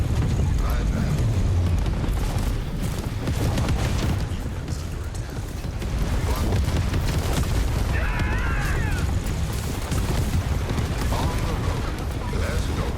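Gunfire and explosions as a base comes under attack in the Tempest Rising real-time strategy game, a dense continuous barrage of booms and shots, loud throughout, with a voice talking over it.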